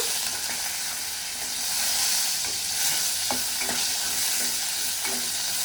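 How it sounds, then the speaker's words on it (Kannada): A spoon scrapes and stirs chillies and curry leaves in a pan for holige sambar over a continuous sizzle, with a few sharp metallic taps. "ಚೆನ್ನಾಗಿ ಒಂದ್ಸಲ ಮಿಕ್ಸ್ ಮಾಡ್ಕೊಳ್ಳೋಣ"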